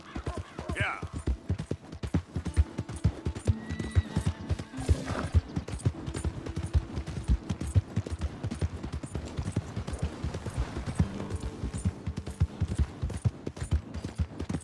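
Rhythmic hoofbeats of a galloping horse clatter steadily throughout in Red Dead Redemption 2, with a horse whinnying near the start and game voices and effects mixed in.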